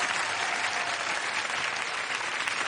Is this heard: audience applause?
yes